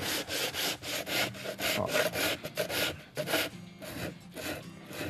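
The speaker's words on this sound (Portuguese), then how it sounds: "Quanto mais você desgastar a peça, mais bonito fica o efeito. Por isso que eu uso a lixa 60, que é bem grossa." Coarse 60-grit sandpaper rubs and rasps back and forth over a wooden planter, distressing its edges in steady, close, repeated strokes with brief pauses between passes.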